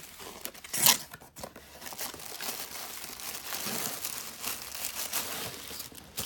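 Plastic packaging crinkles and rustles close up as a boxed small travel tripod is opened, with a sharp tearing burst near the start followed by continuous handling crackles.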